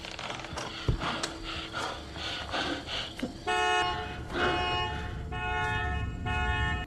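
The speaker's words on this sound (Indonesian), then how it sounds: "menyalakan mobil agar terdengar alarm dari mobilnya untuk mengalihkan perhatian psikopat" A car alarm blares in a thriller film scene, a loud steady electronic tone that cuts in midway and holds, following scuffling, clunks and a door being opened.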